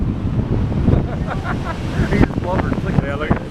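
Strong wind buffets the microphone at a sandy coastline, a loud, roaring rumble with surf blended in, while voices talk over it.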